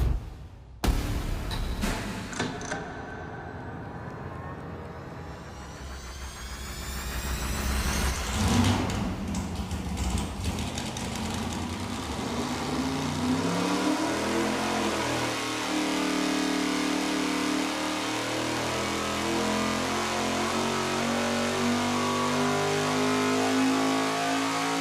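A loud engine on a dynamometer revs up hard and holds a rising, roaring full-power pull for a long stretch, steady and sustained close by.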